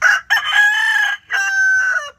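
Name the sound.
rooster crowing, fighting chickens on a farm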